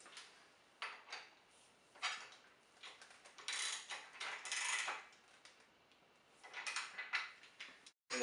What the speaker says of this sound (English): I'm just going to put a small torque on it just to make sure that everything is properly seated.